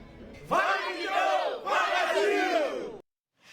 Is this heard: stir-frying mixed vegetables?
no